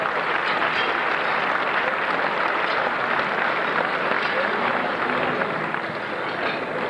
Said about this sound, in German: haben im Nachhinein auch mit Sicherheit einen Applaus verdient